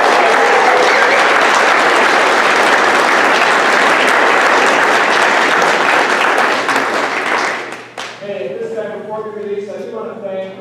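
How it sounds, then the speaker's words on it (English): Loud, dense applause from an audience honouring a graduating eighth-grade class, steady for about seven seconds before dying away as a voice starts speaking over the fading claps. "Let's give a round of applause for our graduating class of"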